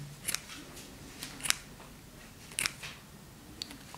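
Dull scissors snip in a few sharp, uneven metallic clicks spaced apart, close and fairly faint, jamming and catching on the material as they struggle to cut.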